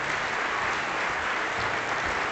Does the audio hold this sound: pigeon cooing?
no